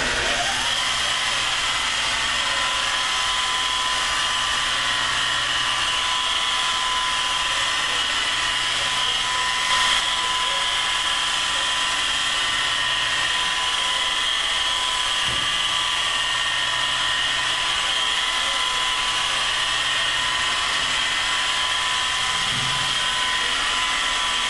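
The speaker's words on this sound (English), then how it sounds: "I let the weight of the buffer do the work." Polishing buffer running steadily on a 1968 Camaro's clearcoat with machine glaze, a constant high-pitched whirring drone, close and unbroken throughout, with no talking.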